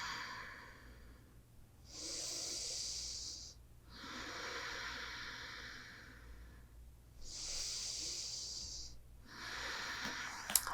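Slow, deep breathing during a prenatal yoga sequence: four long, airy inhale-and-exhale swells with pauses between, close and steady, with no talking.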